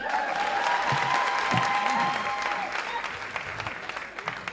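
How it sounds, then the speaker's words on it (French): A comedy show audience at the Nuit du Rire 2018 applauds steadily for several seconds, with a voice carrying over the clapping early on before it tapers slightly. "Applaudissons pour nous-mêmes."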